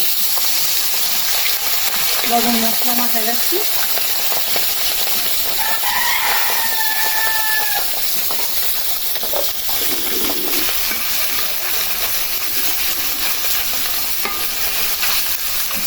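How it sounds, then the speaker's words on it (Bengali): Small puti fish fry lightly in hot mustard oil in a karai, a continuous close sizzle and stirring scrape beneath a person talking, with a rooster crowing faintly in the background. "তেল গরম হয়ে গেছে মাছগুলি ভাই জানি আজকে পুঁটি মাছ হালকা ভাজা করে"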